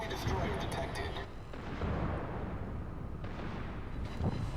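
Secondary guns firing on a destroyer in World of Warships, a run of booming cannon blasts with rumbling explosions, fairly faint overall, and a voice talking over them.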